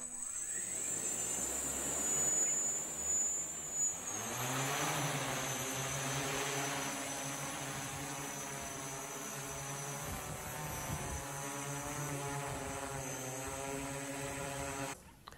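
A small drone carrying a Septentrio mosaic-H GNSS module flies with a steady, high buzzing whine of its propellers, which swells as it powers up and then holds close and constant.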